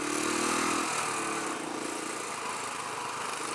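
A Royal Enfield Classic 500 motorcycle's single-cylinder engine drones steadily up close. Its buzzing tone drops in pitch after the first second, then it runs on evenly at a lower note with no talking.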